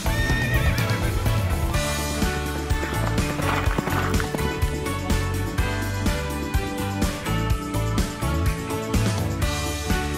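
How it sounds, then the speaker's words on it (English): A Tennessee Walker horse whinnies and its hooves clip-clop while loud music plays continuously throughout. "Tennessee Walker is a breed of gaited horse known for its unique four-beat running walk"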